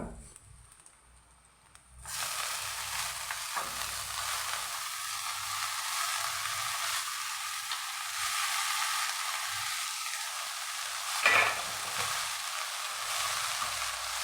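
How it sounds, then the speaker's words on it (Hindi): Chopped spinach drops into a pan of golden-fried onions for an Assamese palak fish curry, a quiet start giving way to a sudden steady sizzle that holds evenly, with a brief stirring scrape later and no talk. "तो अभी मैं इसमें पालक डाल दूँगा"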